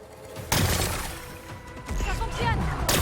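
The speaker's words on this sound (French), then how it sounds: "Je dois faire exploser quelques rochers pour accéder à la batterie." Horizon Forbidden West game explosions as rocks are blasted: a sudden crash and shattering burst, then a rumbling blast with debris, loud and close, separated by brief lulls.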